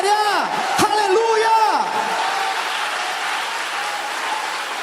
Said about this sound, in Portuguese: dê um aplauso a Ele, libere um grito de vitória